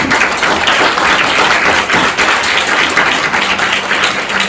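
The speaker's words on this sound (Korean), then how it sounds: "모두에게 감사하는 박수를 한번 보냈으면 좋겠습니다" An audience at a debate festival closing ceremony gives a sustained round of thanks applause, a dense, steady wash of many hands clapping at close range with no pause.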